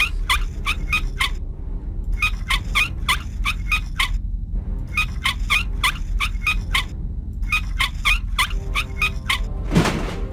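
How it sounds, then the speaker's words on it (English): Screw-turning sound effect from the video game Syberia, heard as repeated clusters of squeaky, ratcheting ticks in even bursts with short gaps, ending in a single dull thud. "Lovely screws sound effect."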